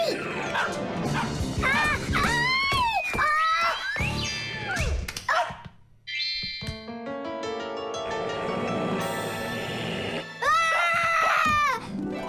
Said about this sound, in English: tell your rabbits that they can stop barking so loudly